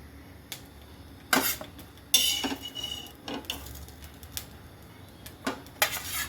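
Nuggets are tossed and stirred in a tawa, with sharp metallic clinks and scrapes of a utensil against the pan coming in irregular bursts over a quiet background.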